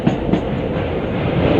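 An Indian Railways express train, the Itwari to Rewa Express, rolls into Satna Junction with a loud, steady rumble of wheels on rails, without any voices.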